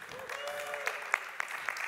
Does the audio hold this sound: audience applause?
yes